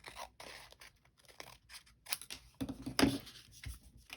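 Scissors snip away excess book-page paper while making a manila envelope, giving a few quiet cuts and rustles that are close and faint and end in one sharper snip near the end.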